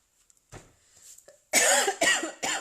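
A few faint breaths and throat sounds, then three loud, harsh coughs in quick succession, close by.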